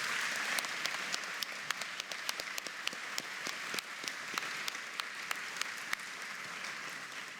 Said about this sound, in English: give a round of applause to the staff and volunteers